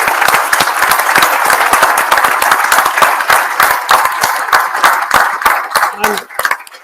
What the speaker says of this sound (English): So I think let's have a round of applause for the panel.